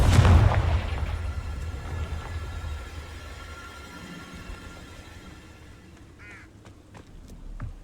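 A Confringo blasting spell in Hogwarts Legacy bursts with a loud, deep explosion at the start, then its rumble decays slowly over several seconds into faint ambient noise.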